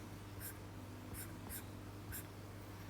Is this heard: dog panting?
no